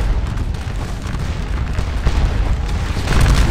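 Musket volleys from massed Napoleonic infantry in the Scourge of War: Waterloo game roll out as a continuous wash of booming, crackling gunfire, overlapping and loud throughout.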